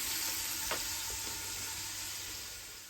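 Garlic roasting in olive oil in a pan gives a steady, soft sizzle throughout, with one or two faint stirring clicks early on and no voices.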